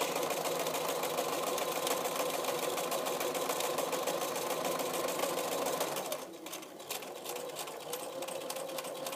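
Sewing machine running steadily as it backstitches bias binding along the edge of a duffle bag pocket, a continuous close whirring hum that eases slightly near the end.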